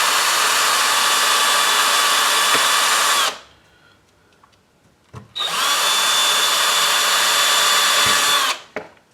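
A power drill boring into a die-cast Dinky Jaguar toy car in a repair shed, two long loud continuous whines separated by a short quiet pause with small clicks.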